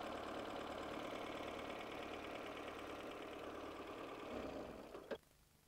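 A car engine idles steadily during a home timing and idle-speed adjustment, giving a constant mechanical hum with rhythmic ticking, then cuts out abruptly with a short clunk near the end.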